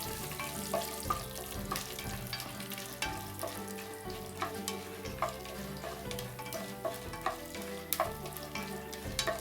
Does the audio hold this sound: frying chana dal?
yes